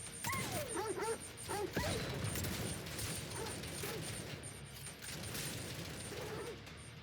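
Suicide dogs in the video game Necromunda: Hired Gun bark and yip in a quick burst of several calls, then fainter whines over clattering game noise and a constant low mechanical hum.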